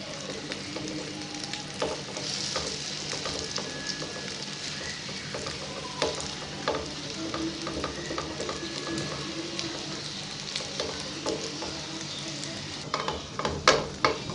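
A bread pizza mixture frying in a hot oiled pan, a continuous steady sizzle with scattered clicks and light scrapes throughout, a few louder knocks near the end.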